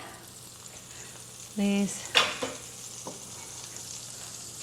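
Butter melts in a pan with a low, steady sizzle running throughout. A short tone and a couple of clinks break in partway, and a voice says a single word.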